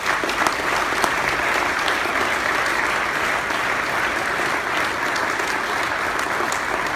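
An audience at a service club changeover gives a sustained round of applause, an even, dense wash of clapping from a large crowd with no talk over it.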